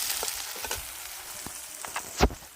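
Ground cumin, chilli and dried red chilli paste frying in hot oil, with a soft, continuous sizzle broken by scattered crackles and one sharper pop near the end.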